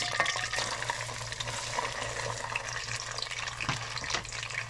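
Onions added to hot mustard oil in a wok give a steady, dense frying hiss, close and continuous, with a low background hum and occasional stirring clatter.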